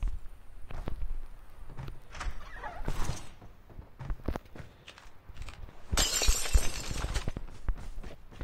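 Glass shattering in Call of Duty: several sharp breaking crashes, the biggest bright burst of shards near the end, among footsteps and scattered game noises.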